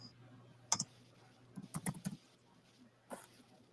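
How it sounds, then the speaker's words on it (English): A computer keyboard is typed on during an online call, giving a few quiet, scattered clicks in short bursts with pauses between them, faint against a low background hum. "Are you busy typing, Melissa, or what's going on?"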